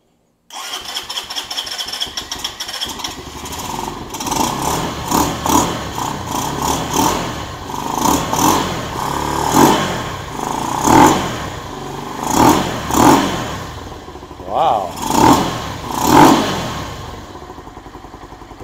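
A Venom SS3 KP mini 150 motorcycle engine fitted with a Nibbi 26mm carburetor cranks and catches, then idles loudly up close, blipping through repeated throttle revs that rise and fall.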